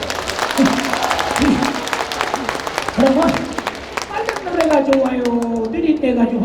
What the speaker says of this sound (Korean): 박수 한번 줘, 박수.